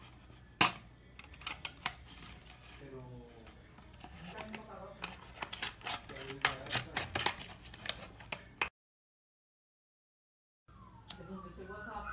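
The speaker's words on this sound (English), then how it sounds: "The first step is to cut the bottle in the upper part." Scissors snip through a plastic bottle in short crisp cuts and crinkling, close and irregular, while a person talks over the work; a brief silent gap interrupts before the sounds resume.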